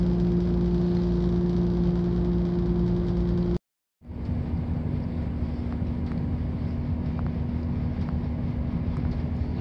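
A passenger train runs between Bridgend and Wildmill, heard from inside an empty coach as a steady, loud rumbling drone that cuts to silence for a moment before resuming.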